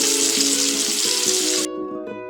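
Chopped onions frying in a pan give a loud, steady hiss and sizzle that cuts off abruptly partway through, leaving quieter low kitchen sounds.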